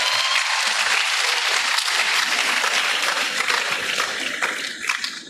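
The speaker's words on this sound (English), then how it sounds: "So let's give him a round of applause for that." An audience at a university visit applauds steadily, a dense wash of clapping that holds evenly for several seconds before starting to taper.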